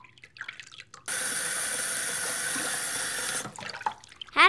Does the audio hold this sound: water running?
yes